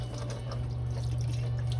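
Warm tap water streams steadily into a kitchen sink for rinsing food, a continuous even rush with no voices.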